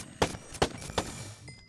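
Three evenly spaced gunshots from a weapon in a modded Minecraft game, crisp and moderately loud, followed by a faint fourth pop and quiet room tone.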